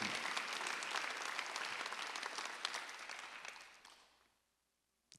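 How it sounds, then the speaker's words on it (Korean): A church congregation at a Sunday worship service breaks into sustained applause, a dense wash of clapping from many hands that gradually thins and fades out to silence over about four seconds. "박수 하나 들어주세요"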